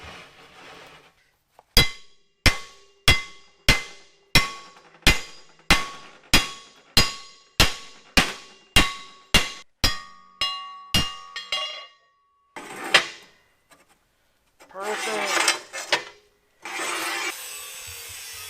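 Heated quarter-inch steel plate hammered to bend it, a long run of about sixteen sharp ringing metallic strikes at an even pace, followed by a few scattered scraping and shuffling noises.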